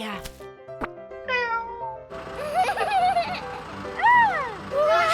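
A small cartoon cat gives a few high, sliding meows, close and clear, amid a lively animated soundtrack with music.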